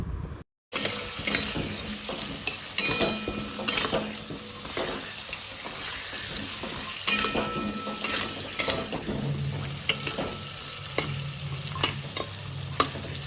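Thinly sliced potatoes, seasoned with salt and turmeric, fry in a pan for prawn biryani, giving a steady close sizzle broken by repeated clattering stirs and scrapes, with no talking.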